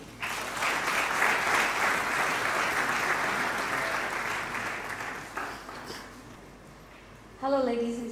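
Sustained applause from the audience at the BRF GABFEST 2nd edition greets a guest speaker, a dense, even roar of clapping that fades out before a single voice begins speaking close by.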